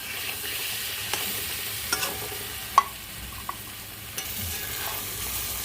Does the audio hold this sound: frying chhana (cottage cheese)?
yes